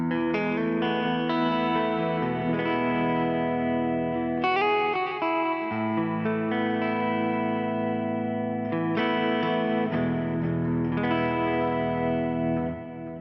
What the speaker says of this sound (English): See what's happening here with our cloud reverb. It turned on for some reason.